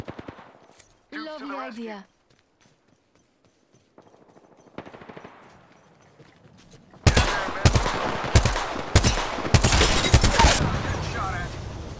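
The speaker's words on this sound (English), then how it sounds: "Opening fire." Apex Legends gameplay in which automatic weapons fire rapid, loud bursts through the second half, after quieter game sounds and a short spoken line.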